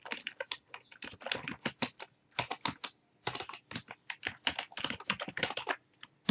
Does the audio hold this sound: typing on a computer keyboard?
yes